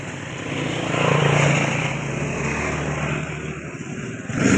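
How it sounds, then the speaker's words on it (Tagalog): A motorized tricycle passes along a muddy road, its engine droning near and then fading slightly, with no talking over it. "Oh, Ashley, baka may tricycle"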